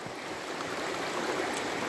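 Clear mountain stream on the Appalachian Trail in the White Mountains: steady, close rushing and babbling water, continuous and even throughout.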